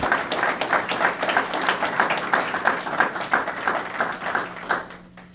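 A signing-day audience claps for a football recruit, a moderate crowd of hands patting in uneven bursts that thin out near the end.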